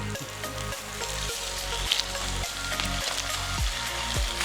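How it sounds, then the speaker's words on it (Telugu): Chopped onion and spinach sizzle steadily in a pan over a medium flame, with a continuous crackling fry and soft stirring scrapes, close and fairly quiet. "3 కట్టల పాలకూర ఇట్లా మీడియం ఫ్లేమ్ మీద వేయిస్తూ"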